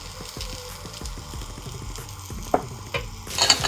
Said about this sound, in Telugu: వీటిని మనం మంచిగా ఫ్రై చేసుకోవాలండి